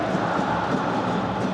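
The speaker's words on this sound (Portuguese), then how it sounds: "Nesse momento, quem grita é a torcida do Botafogo" Botafogo supporters shout and roar inside Maracanã stadium during a scoreless match against home side Flamengo, a dense, steady wall of crowd noise with no breaks.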